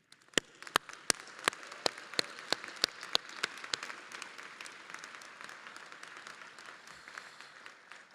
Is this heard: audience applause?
yes